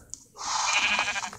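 Cow mooing in a video game, a single drawn-out bleating call lasting about a second, close and fairly clear, with no one speaking over it.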